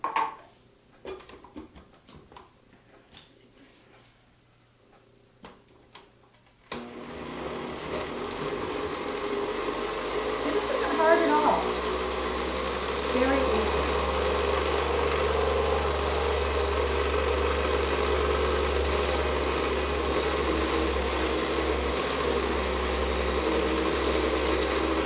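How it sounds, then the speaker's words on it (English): After a few quiet seconds of faint clinks and handling, a blender starts abruptly and whirs steadily through avocado pie filling, a loud, continuous motor hum with a brief strained shift partway before settling into an even drone. "I'm going to blend it."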